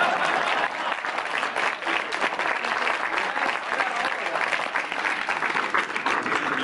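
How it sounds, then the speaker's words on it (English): An audience at a Wizard World Minneapolis convention panel claps in a sustained, dense round of applause, steady and fairly loud throughout, with faint crowd murmur underneath. "Applause. Applause."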